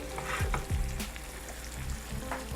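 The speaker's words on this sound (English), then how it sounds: "We just need to cook this just for a few minutes just to finish off that cooking." Lobster frying in melted butter in a pan, a steady close sizzle with a few stirring scrapes and clinks over it.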